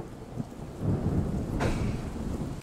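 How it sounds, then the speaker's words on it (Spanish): Rain and thunder from an ambient rain website: a steady hiss of rainfall with low rumbling, and a sharp thunder crack near the middle that rolls off under continuing rain. "ya estoy en la página y hay sonidos de lluvia"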